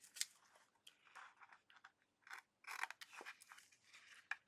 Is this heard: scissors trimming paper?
yes